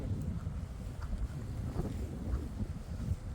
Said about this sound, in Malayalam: നല്ല കാറ്റുണ്ട് കേട്ടോ.